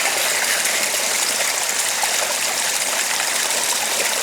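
Stream water pours steadily into two 1-litre bottles and a 500 ml bottle at a wild camp on Kinder Scout, a constant close rushing and trickling with no breaks.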